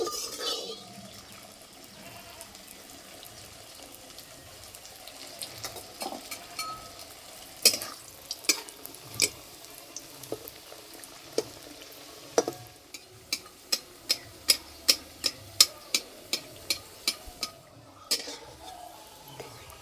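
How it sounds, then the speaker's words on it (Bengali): Flour-and-potato snack pieces frying in warm oil, two at a time, give a soft steady sizzle with a run of sharp clicks and taps from utensils near the end. "এবার ভেজে নেব। আর ভাজার জন্য তেল হালকা কুসুম গরম করে নিয়েছি।"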